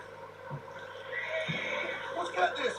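A horse in Red Dead Redemption 2 whinnies amid in-game ambience, with soft hoof knocks and some low talk-like sound underneath; the call is moderately loud and brief.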